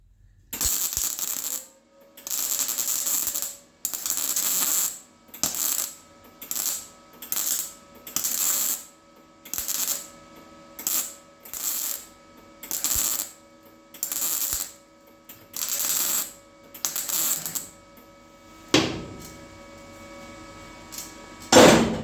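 MIG welding on a patch comes as a run of about a dozen short crackling bursts, each a harsh buzzing sputter lasting a second or two with brief silent gaps, close and loud with no talk.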